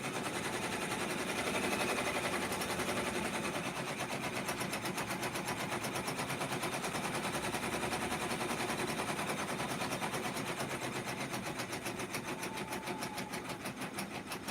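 An embroidery machine stitching an Easter basket runs as a loud, close, continuous rapid rattle of needle strokes with a motor hum, steady for the whole stretch with no talking.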